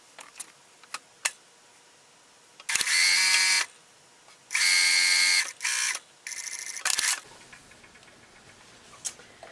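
A sewing machine stitches a 5/8-inch sleeve seam in several short loud bursts of whirring, separated by pauses with small clicks, in a quiet room with no talk.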